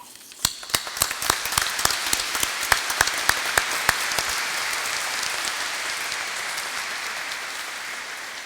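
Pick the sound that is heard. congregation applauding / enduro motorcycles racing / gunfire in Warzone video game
congregation applauding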